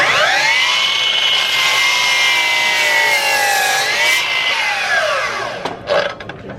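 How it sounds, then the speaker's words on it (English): A Milwaukee M18 dual bevel sliding 12-inch miter saw cuts loudly and close, its high whining blade tone dipping slightly under load through the cut, then spinning down and fading with a few clatters at the end. "that's the dual bevel sliding 12-inch miter saw"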